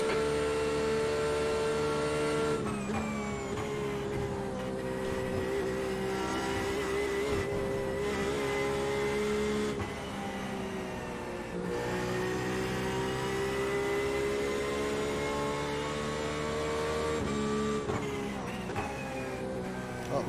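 Race cars in an IMSA sim racing session at Watkins Glen, a steady loud engine drone with shifting pitch as cars run close together, revs dipping and climbing through gear changes over about twenty seconds.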